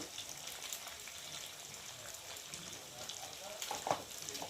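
Egg frying in a pan with a little salt and turmeric for Maggi noodles, a steady soft sizzle throughout with a brief louder clink or scrape near the end.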